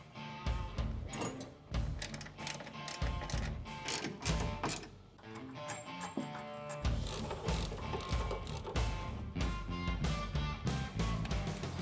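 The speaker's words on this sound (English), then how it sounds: "we need to tighten down the brackets that go from the Molle panel to" Bolts on Body Armor 4x4 Molle panel brackets in a Toyota Tacoma truck bed are tightened with a ratchet, giving loud, close, rapid clicking in bursts with short pauses between them.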